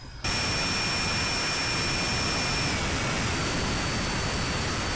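Freewing 80mm A-10 RC jet in flight, its electric ducted fans giving a steady, loud, broadband whoosh with a thin high whine that shifts slightly midway.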